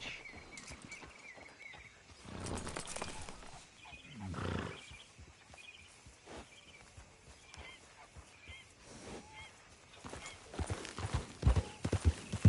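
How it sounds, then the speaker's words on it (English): Horse hooves clip-clopping at a gallop in the video game Red Dead Redemption 2, a steady near rhythm of hoofbeats with outdoor ambience and occasional louder bursts, no talk. "Grab your horse and let's go."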